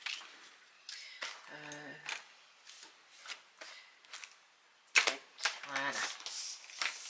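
Paper folded by hand to make a small scrapbooking gift bag for a chocolate, a run of crisp creases and rustles close up, broken by short bursts of talk.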